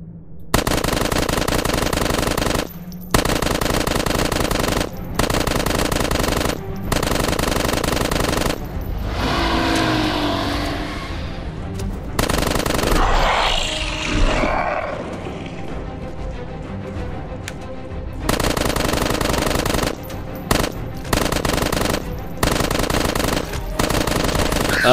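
Rapid automatic gunfire in the video game FossilFuel 2 rattles loud and close in long sustained bursts, broken by short gaps and a quieter stretch of mixed game noise in the middle.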